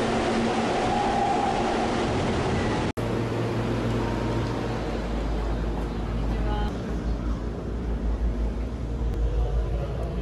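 Riding a Keihan electric train from Demachiyanagi Station toward Osaka: a loud, steady rumble of wheels and carriage, with a sharp click partway through, after which the noise settles into a deeper hum.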